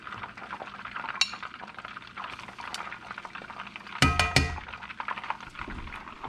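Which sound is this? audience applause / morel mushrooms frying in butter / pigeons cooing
morel mushrooms frying in butter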